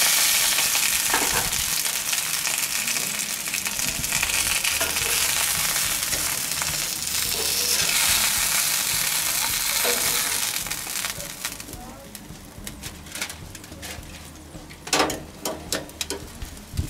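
Chicken pieces sizzle and crackle as they fry in a pan, a steady loud hiss through most of the stretch that thins out into sparser pops and spits near the end.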